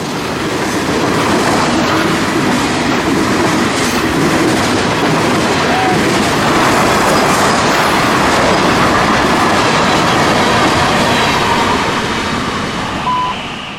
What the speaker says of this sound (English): 103 is daily manifest traffic out of Jacksonville for Miami.